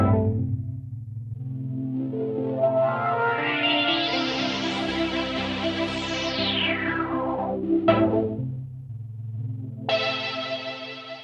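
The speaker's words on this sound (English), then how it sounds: "Let's do an amp sim into a chorus." A Zenbeats ZC1 synthesizer run through an amp simulator into a chorus effect plays a sustained, swelling distorted tone that sweeps upward and back down with a shimmering, wavering texture, then ends in two short bright stabs, with no talking.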